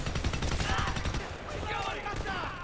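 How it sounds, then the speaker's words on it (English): Rapid gunfire from the video game Homefront sounds as dense, continuous automatic bursts, loud and close. "I'm getting shot at."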